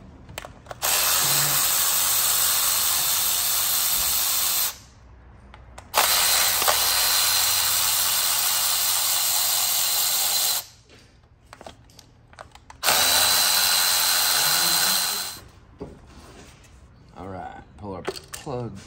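A power ratchet spins out 10 mm bolts from an engine, delivering three loud, sustained bursts of buzzing whir separated by brief pauses, with a voice talking softly during the gaps.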